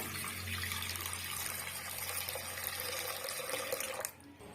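Thick milk pouring into a mixing bowl for a milk sherbet, a steady liquid rush under a low hum that runs close and continuous for about four seconds, then cuts off abruptly.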